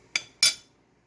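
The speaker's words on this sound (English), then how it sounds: "you can cut it with a fork" Fork cutting through tender cube steak cooked in a crock pot with hamburger-style gravy: two short, crisp clinks of metal tines against a plate, a few tenths of a second apart, close and fairly loud, then quiet.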